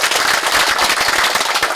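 Meeting attendees at a clan association's annual general assembly clap together in approval, a dense, continuous burst of many hands filling the room without pause.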